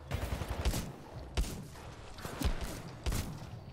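Shotgun blasts in the first-person shooter Titanfall 2, four loud booming shots spaced roughly a second apart, each with a sharp crack and a low thump over continuous battle noise.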